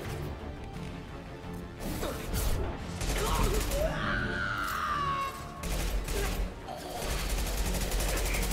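Rifle gunfire in the video game Mass Effect 2, a dense run of loud, close shots in rapid bursts mixed with clanks and crashes of combat, while a voice talks over the action.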